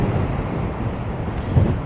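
Sea waves wash steadily along the Jurassic Coast between Seatown and West Bay, a broad continuous surf rumble mixed with gusting wind buffeting the microphone, with no voices.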